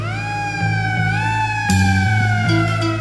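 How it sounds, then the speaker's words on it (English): A police-style emergency siren wails in a 1960s UK rock song, its rising and falling tone sweeping loudly over sustained organ and bass chords, with no singing during the passage. "In the dark I hear a siren."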